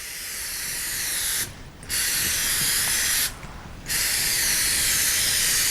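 Baking pan spray can hissing in two long bursts broken by short pauses, a close, bright spray sound laid lightly over pan grease before cooking.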